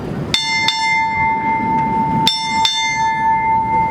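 Four strikes of a ship's bell at a US Navy change of command ceremony, rung in two quick pairs, each bright metallic clang ringing on and decaying between strikes.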